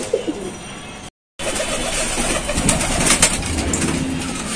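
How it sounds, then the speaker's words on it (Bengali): Male pigeons in a cage at a highflyer pigeon farm, many imported from Dubai, coo repeatedly at close range, a busy overlapping chorus with a short silent gap early on. "এটা হচ্ছে ওনার কবুতরের মেল কেজ গুলো"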